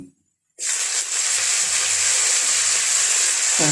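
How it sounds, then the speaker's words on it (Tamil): Onions sauté in a pan for a village-style buttermilk rasam, starting abruptly after a moment of silence as a loud, steady, bright sizzle that continues unbroken for about three seconds, close up and without talk. "இது பாருங்கள், வெங்காயம் நல்லா வதங்கிடுச்சு"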